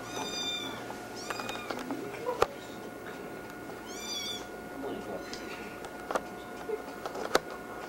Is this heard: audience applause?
no